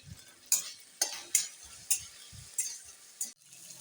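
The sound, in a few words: spice paste being sautéed and stirred in a pan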